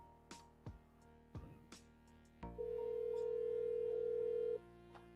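A telephone ringback tone sounds once as a call goes through, a steady electronic beep held for about two seconds after a few soft handling knocks, heard close and alone.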